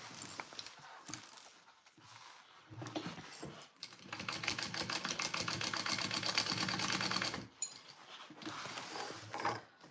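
A sewing machine basts fabric for a Rick Rolltop Petite backpack, running in a steady rapid stitching rattle for several seconds after a few short starts and stops, close and fairly loud.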